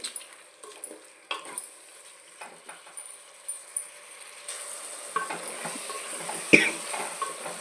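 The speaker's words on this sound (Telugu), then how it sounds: "మళ్ళీ బాగా కలుపుకొని ఇంకొక 5 నిమిషాలు వేగనివ్వాలండి." A spoon stirs food frying in a pan for meal maker soy chunk biryani, with scraping strokes that repeat over a steady sizzle which grows louder partway through.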